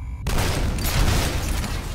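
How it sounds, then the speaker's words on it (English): A rocket launcher fires in F.E.A.R. with a sudden loud blast, followed by a sustained roaring rumble that carries on until it cuts off abruptly. "Oh, is that the rocket launcher?"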